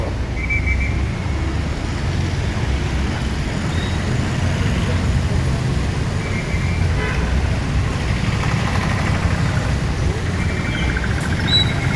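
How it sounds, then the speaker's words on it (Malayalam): A traffic jam on a Kozhikode road near MIMS hospital produces a continuous low rumble of idling cars, buses and trucks, with scattered horn toots and faint voices in the background. "ട്രാഫിക് ബ്ലോക്കാണ്"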